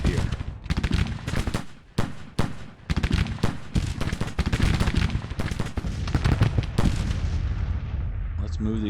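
In Grand Tactician: Civil War, a Civil War artillery battery and rifle fire crack out in a dense, irregular volley. Loud close shots and booms come in quick clusters and keep going.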